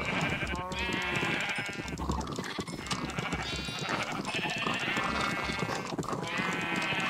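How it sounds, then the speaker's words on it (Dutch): Sheep in the game Minecraft bleat repeatedly, several overlapping calls in a steady stream over a dense bed of game sounds and background music, with no talk over them. "even al deze schapen"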